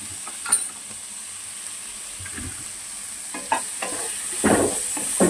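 Chutney ingredients fry in a non-stick pan, a soft steady sizzle broken by occasional spatula stirs and scrapes against the pan.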